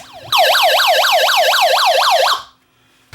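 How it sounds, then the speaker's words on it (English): Electronic siren from a Tivdio HR 11W camping and emergency radio, a loud wailing tone sweeping up and down about eight times in quick, even cycles before cutting off abruptly. "and a siren."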